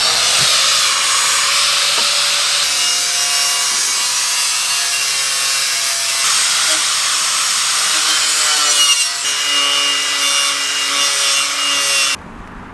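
A power tool grinds steadily against the metal windshield frame of a 1957 VW. The harsh, whining abrasion runs close and loud for about twelve seconds, then cuts off abruptly.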